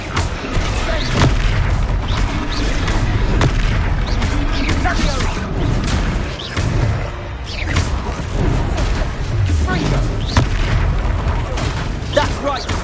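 Confringo fire spell blasts in Hogwarts Legacy rumble and boom repeatedly through dense, loud combat noise, with a continuous roar and voices talking over it.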